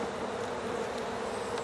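Honey bees in a hive, a steady dense buzzing hum that holds evenly for the whole stretch at a modest level, with no voices.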